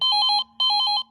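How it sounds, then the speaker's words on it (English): A 2001 Telstra Slimline 40 neon telephone rings in two short bursts of rapid electronic trilling tones separated by a brief pause, clear and close with no talk. "you can hear the Slimline, Telstra Slimline 40 ringing"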